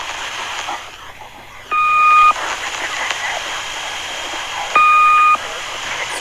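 Two short steady electronic beeps from the Swedish Rhapsody numbers station, each about half a second, spaced roughly three seconds apart over hissy shortwave radio static.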